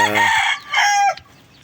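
A rooster crows once, loud and close, a bright two-part call that cuts off abruptly, followed by quiet.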